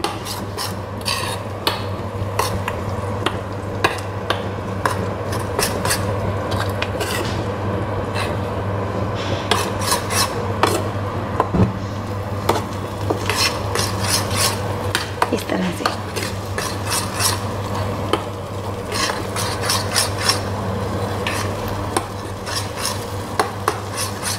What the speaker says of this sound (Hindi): थोड़ी गैस तेज़ करेंगे और इसको थोड़ा थोड़ी एक मिनट पे भून लेंगे